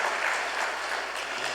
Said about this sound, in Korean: 우리 한 번 더 박수로 우리 환영하겠습니다